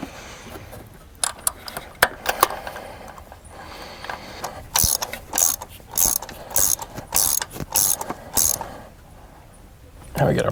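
Ratchet clicking in bursts while spark plugs are tightened on a Chrysler 200 with a 3.6L V6, rapid pawl ticks in repeated short runs, close and fairly loud, with light handling noises between strokes.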